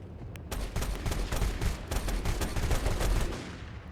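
A dense volley of shotgun fire from an FPV drone in the video game Obrii, sharp loud blasts following one another rapidly and almost continuously.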